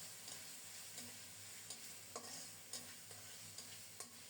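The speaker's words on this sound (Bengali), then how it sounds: "খুব সুন্দর মতো মশলাটাকে মনের মতো করে কষিয়ে নিচ্ছি।" Spice paste with sliced green chilies and chili powder stir-fries in a pan, a steady low sizzle broken by regular spatula scrapes and taps, with no talking.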